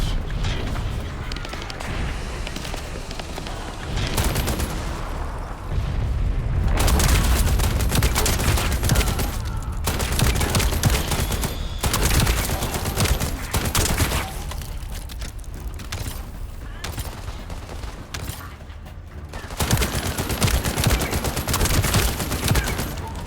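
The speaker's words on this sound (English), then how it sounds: "just keep your finger on the fire button and you'll start firing before the reload animation" Sustained gunfire in The First Descendant rattles in long, dense automatic bursts with brief gaps between volleys, loud and close.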